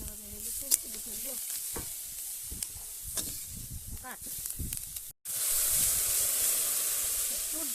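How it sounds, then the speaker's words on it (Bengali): Green peas fry in a pan with a lightly salted, steady hiss and sizzle, broken by scraping stirs and a brief gap before a louder burst of steam-like sizzling. "এইরকম মটরশুঁটিগুলো ভাজা ভাজা হয়ে গেছে"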